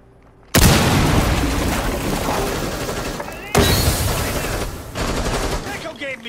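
Enemy gunfire in Rainbow Six Siege erupts as a loud, dense volley of shots, breaks off briefly, then resumes in a second sustained burst of rapid firing with faint voices underneath.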